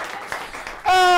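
A studio audience on a live Kenyan TV talk show breaks into applause, a loud burst of clapping that swells suddenly at the end of a short stretch of talk.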